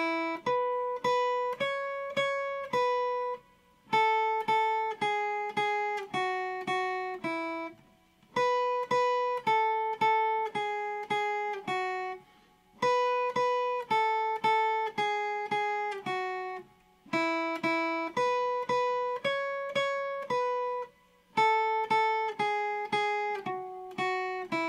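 Twinkle Twinkle Little Star played on guitar in a simple beginner-level way, as clean single notes in an even rhythm, with brief pauses between phrases and no talk.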